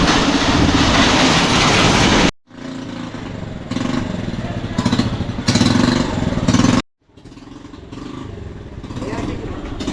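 A toy train ride at a Shirdi attraction rumbles and clatters loudly and close by, with two brief dropouts, while people talk nearby.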